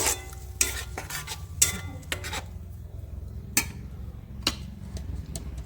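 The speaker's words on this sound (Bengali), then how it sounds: "মশলাটা দিয়ে নিয়েছি পেঁয়াজ ভাজার সাথে ওটা মশলাটা ভালো করে কষিয়ে নেব" Spice paste being stirred and fried with onions in a pan for an egg curry, a steady low sizzle under scraping strokes and several sharp utensil clinks against the pan.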